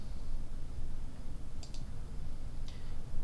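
Computer mouse clicking in 3D modeling software: a quick double click, then a single click about a second later, crisp and close over a steady low hum.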